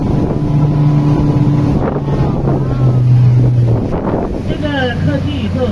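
A boat engine drones loudly and continuously while riding on the water near a waterfall. Wind rushes over the microphone, the motor's tone shifts slightly, and a voice briefly cuts in near the end.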